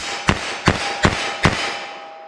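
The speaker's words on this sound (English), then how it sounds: "I'm just going to get a front sight picture, pop these off as fast as I think I can hit the target" Four rapid gunshots from a .32 H&R Magnum revolver with a 4.2-inch barrel, firing Federal American Eagle soft point rounds at a target 14 yards away; sharp, evenly spaced cracks about 0.4 s apart, each with a short ringing decay.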